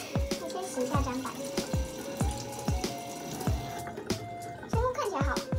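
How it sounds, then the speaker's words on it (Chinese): Tap water runs onto a cutting board being washed in a kitchen sink, with splashing and knocking as the board is handled. A person talks over the running water. "我先洗一下砧板。"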